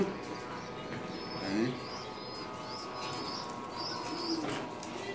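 Domestic pigeons coo softly in a loft, a few low repeated calls with faint chirps, heard at a moderate distance while a person talks over them.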